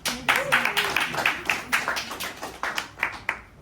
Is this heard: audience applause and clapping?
yes